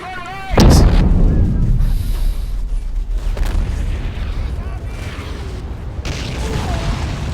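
A heavy artillery blast booms loudly in the Men of War: Assault Squad 2 battle, with a long rumbling decay, then smaller distant thuds and battle noise, as someone comments over it.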